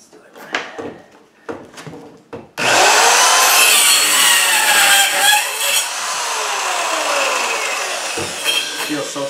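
A Performax 4-1/2 inch compact circular saw with laser guide bites into wood after a few handling knocks, a sudden loud, harsh buzzing cut that holds steady for several seconds, close by.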